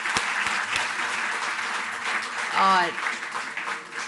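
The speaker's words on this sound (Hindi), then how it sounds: "जोरदार तालियां एक बार।" Crowd applause for athletes at a Delhi government assistance event, a steady wash of clapping throughout, broken by a short spoken word partway through.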